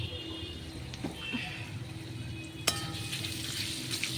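Mango pieces with salt frying in a pan, a soft steady sizzle with a few light clinks and stirring sounds, no talking.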